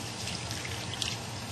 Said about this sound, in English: And wash it cleanly with warm water.